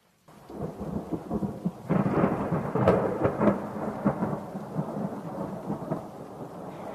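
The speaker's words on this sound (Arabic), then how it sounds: "سمعتوا الرعد وعم تشتي كمان" Thunder rumbles over steady rainfall, the broadband roar swelling loud after the first couple of seconds with a few sharper cracks near the middle, then holding as a continuous wash of rain to the end; no voices.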